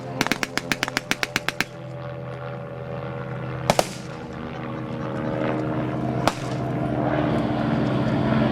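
At a 2013 Vietnam-themed air show battle reenactment, an O-2 Oscar Deuce piston aircraft drones low overhead while a rapid string of sharp gunfire bursts opens the scene, followed by isolated loud pops over the steady engine roar.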